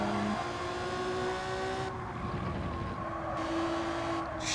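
Race car engine in Gran Turismo 7 holding a steady, droning rev with sustained tonal whine, loud and continuous throughout with no talking.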